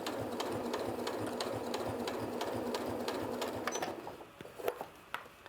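A sewing machine runs steadily and close by, stitching a top stitch seam along the edge of a fabric face mask, then stops after a few seconds, leaving faint handling clicks.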